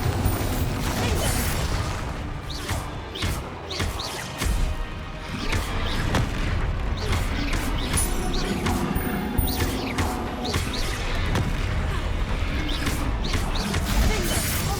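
Bombarda explosion spells cast in Hogwarts Legacy, a dense, continuous barrage of crashing booms and impacts with game mechanisms clattering underneath, loud and close throughout.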